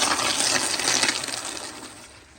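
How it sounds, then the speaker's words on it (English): A 1999 Kohler Highcrest toilet flushes with the water pressure turned all the way up, giving a loud, steady rush of swirling water that gradually tapers off over a couple of seconds. "here is a flush with the pressure turned all the way up"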